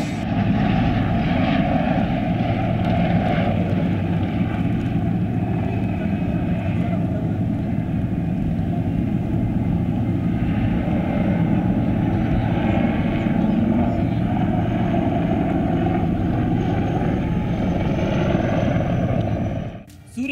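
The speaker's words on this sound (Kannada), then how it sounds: "ಸೂರ್ಯಕಿರಣ ವಿಮಾನ ಕೆಲವೊಮ್ಮೆ ಭೂಮಿಯ ಸನಿಹಕ್ಕೆ ಮತ್ತೊಮ್ಮೆ ಏಕಾಏಕಿ ಆಕಾಶದೆತ್ತರಕ್ಕೆ ಅತ್ಯಧಿಕ ವೇಗದಲ್ಲಿ ಹೋಗಿ" Surya Kiran aerobatic jets fly at the 14th Aero India air show at Yelahanka air base, producing a loud, continuous engine roar that fills the whole stretch and covers a narrator's voice.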